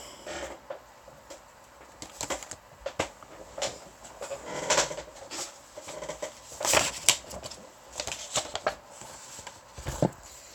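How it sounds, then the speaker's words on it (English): Loose photographs are shuffled and slid back into a drawer, a run of close rustling, papery scrapes and small knocks in irregular bursts, with no one speaking. "this is going to take forever for me to put it back into this drawer."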